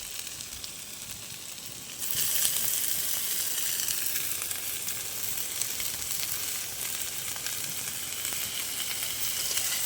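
Frying potatoes give a quiet hiss, then chopped kulfi greens hit the pan and the sizzle jumps louder and brighter, staying steady and close with no talking.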